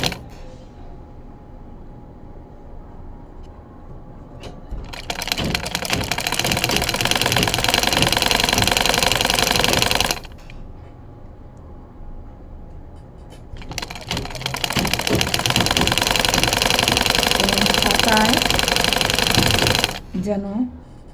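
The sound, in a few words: sewing machine stitching fabric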